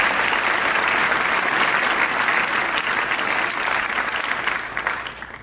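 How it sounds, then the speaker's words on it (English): Sustained audience applause at an evening literary program honoring author Ron Chernow, a dense steady wash of many hands clapping that holds loud and even before tapering slightly near the end. "give another round of applause for everyone that Joe mentioned that put this program together for us this evening"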